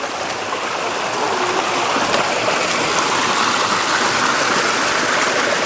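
A mountain stream in a gorge rushes over rocks, a loud, steady, broadband wash of flowing water, close by and unbroken, with no voices.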